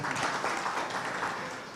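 Audience clapping at a corporate social leadership awards event, a dense, steady round of applause at moderate level across the whole moment.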